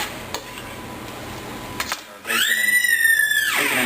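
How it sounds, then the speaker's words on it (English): A spoon scraping and clanking in a pot of bacon, onions and ham hocks being stirred for chile verde, a few soft knocks followed by a louder sizzling, squealing scrape near the end. "we're just going to stir that up a little bit"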